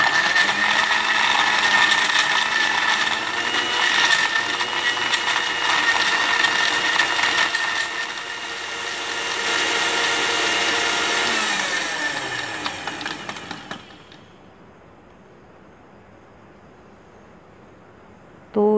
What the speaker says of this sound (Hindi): बस लस्सी की ब्लेंडिंग हो गई है।